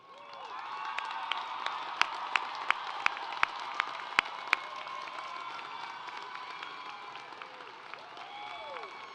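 A large commencement audience at a university graduation ceremony cheers and applauds in a continuous roar, with sharp individual claps and whoops standing out nearby.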